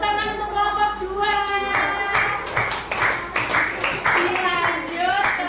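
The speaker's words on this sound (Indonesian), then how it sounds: "Oke, beri tepuk tangan untuk kelompok 2." Schoolchildren in a primary-school classroom clap for a presenting group, a dense burst of applause mixed with children's voices and chatter throughout, fairly close and lively.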